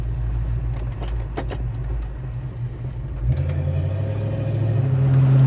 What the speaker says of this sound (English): we're going to ride with the windows up, the air on, and see how our 351 1970 Mustang performs